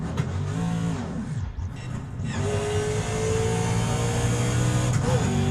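A car engine in a racing simulator game rumbles steadily and revs up, with tire noise, loud and continuous throughout the short run.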